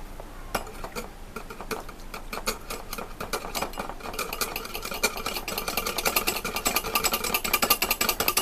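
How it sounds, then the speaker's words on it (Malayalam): Homemade body cream being mixed with orange oil in a bowl, a steady clinking and scraping of a utensil that grows busier and louder toward the end, with no talking. "ഇത് നമ്മളൊന്ന് മിക്സ് ചെയ്യാം ആദ്യം"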